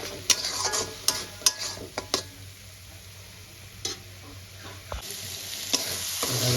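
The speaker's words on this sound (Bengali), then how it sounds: "এবার ভালো করে আমি আদা রসুন বাটাটা কষাবো একদম ওর কাঁচা গন্ধটা চলে যাওয়া পর্যন্ত" Ginger-garlic paste frying in a pan for a spring onion and coriander chicken dish, a low, even sizzle under sharp spatula clicks and taps against the metal, clustered early and then spaced out, close and with no speech.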